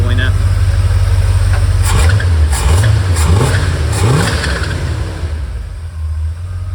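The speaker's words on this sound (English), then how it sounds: "I'm going to rev it a couple times to see what the idle ends up settling at." A 1978 Ford Bronco engine fitted with a new 4-barrel carburetor and intake idles with a low steady rumble, then is revved in several quick blips before settling back to idle, close and loud.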